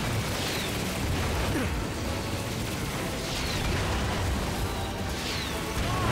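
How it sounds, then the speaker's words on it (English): Grenade blasts in the PS4 Ratchet & Clank game, a dense, continuous wash of booming explosions and crackling bursts layered over game noise, loud and steady throughout with no voice. "Bomb this guy with our grenades."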